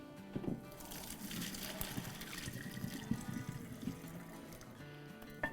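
Cooked minced meat (keema) tipped into a strainer, watery draining and sloshing with soft clatters, running steadily at close range without speech.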